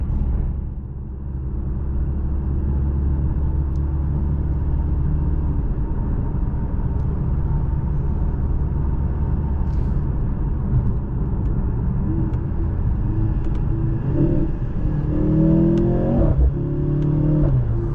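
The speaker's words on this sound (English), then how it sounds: "the gear shifts are so quick, feels visceral, and I love the pops from the exhaust when you downshift and upshift" Engine of a 2023 Mercedes-AMG C 43 in dynamic mode, a steady loud cabin rumble that climbs under acceleration, with rising harmonic sweeps near the end as quick gear shifts come through; no speech.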